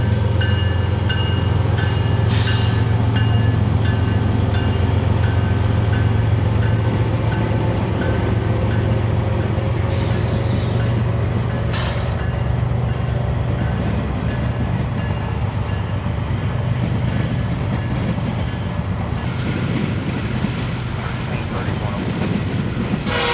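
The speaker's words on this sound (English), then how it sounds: "Emerging from NS's Selma Yard came a coal train led by one of Norfolk Southern's heritage locomotives, the 8104 Lehigh Valley." A Norfolk Southern coal train led by heritage locomotive 8104 in Lehigh Valley colours rolls out of Selma Yard. A deep, constant diesel engine rumble carries on throughout, joined by squealing wheels, clanking cars and a few brief higher tones.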